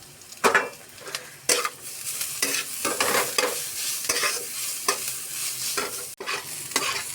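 Onion frying in oil in a pan as chopped ginger and garlic go in, a continuous sizzle with repeated sharp scrapes and clinks of a spatula stirring against the metal pan, close and fairly loud.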